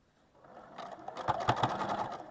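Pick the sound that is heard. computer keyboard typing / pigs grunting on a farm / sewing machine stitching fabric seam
sewing machine stitching fabric seam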